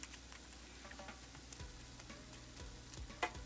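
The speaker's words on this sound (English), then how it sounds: "So there's the tots. You can hear it kind of cooking." Tater tots crisp inside a Gourmia GAF575 digital air fryer, giving off a faint, steady sizzle with scattered soft crackles and a clink or two near the end.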